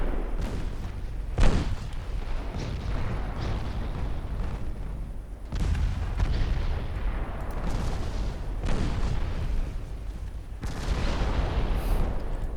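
Naval gunfire and torpedo hits in the warship game Ultimate Admiral Dreadnoughts: a steady low rumble of battle with several heavy booms and explosions spread across the scene, some close and loud, others duller and more distant.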